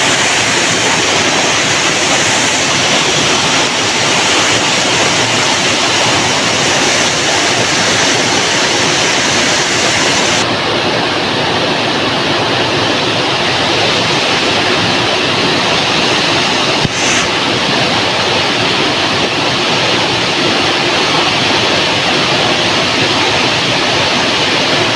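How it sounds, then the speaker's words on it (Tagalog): Rizal Falls roars in a loud, continuous broadband rush of falling water, steady and close throughout, with no voices over it. "Rizal Falls, lagyan natin guys."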